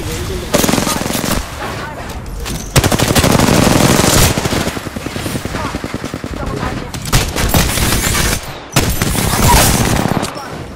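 Video game gunfire rattles in rapid automatic bursts, loud and close, with short pauses between volleys and voices talking over the shooting.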